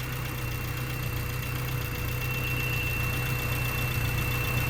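A 1992 Honda Civic hatchback engine idles steadily with a constant high-pitched whine riding over its low, even rumble, continuous and unchanging throughout with no talking.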